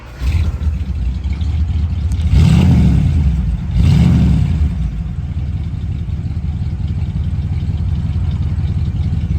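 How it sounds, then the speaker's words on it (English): A 1956 Ford Fairlane Sunliner Convertible engine cranks and catches, then revs twice in quick bursts before settling into a steady, rumbling idle close by. "All right, Josh, go start it up for me."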